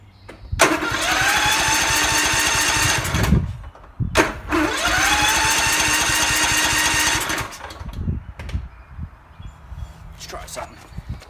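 A Toro lawn tractor engine cranks over in two long, loud bursts of steady starter churning, each lasting about three seconds, then stops without catching, followed by some clunks and handling noise.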